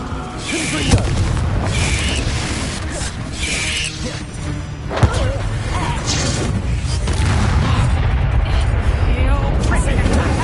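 Repeated Confringo blasting-spell explosions in Hogwarts Legacy, booming and crashing through dense, continuous combat noise with a sharp burst around the middle, while a voice shouts spell names over the chaos.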